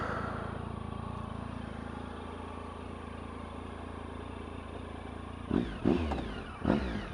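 A Triumph Tiger motorcycle fitted with an SC Project exhaust idles with a steady low rumble, then gives a few short, sharp throttle blips near the end, close by and loud.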